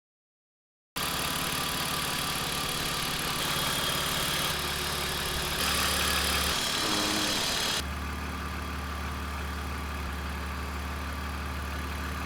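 A warm car engine idles steadily and continuously at close range, its low hum unbroken by any talk, with a few brief shifts in tone partway through.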